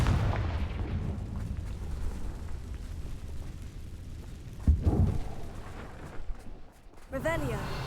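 A Confringo spell blast in the Hogwarts Legacy video game bursts out as a single sudden boom midway, over a steady low game rumble, with a brief chiming sound near the end.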